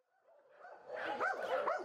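Dogs at an animal shelter in Soria bark and whimper, starting faintly and building to a louder run of overlapping yips and barks, with no one talking.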